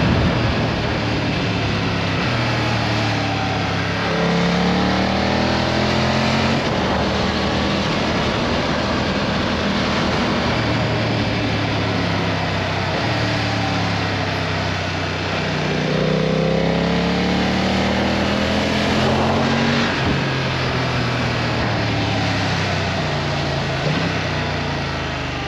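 A BMW F900R motorcycle engine hums while riding, its pitch rising and falling through gear changes under steady rushing wind noise.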